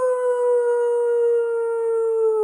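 A person's voice imitating a howl: one loud, steady, sustained hooting tone held for about two and a half seconds, heard alone.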